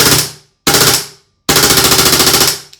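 A Lambda Defense B&T GHM9-G pistol-caliber carbine fires three loud full-auto bursts: a short one, a slightly longer one, then a sustained steady string of rapid shots, each burst cutting off cleanly into silence.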